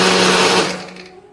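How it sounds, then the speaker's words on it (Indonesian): A kitchen blender grinds red chilies, candlenut, garlic and shallot with water into a paste. Its loud, high whirring motor runs steadily and then winds down as it is switched off. "Kemudian tambahkan lagi air, lalu kita haluskan."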